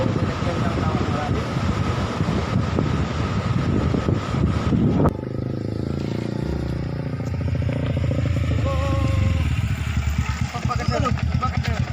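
A motorbike engine runs close by with a rough, continuous idle and some clattering, its tone shifting partway through, while people talk over it in a roadside setting.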